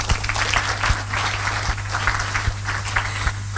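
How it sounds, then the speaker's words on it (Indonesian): A short burst of applause from a group at a Kangen Water product demonstration, steady clapping with a low hum underneath, fairly close and moderately loud. "Tepuk tangan dulu ah."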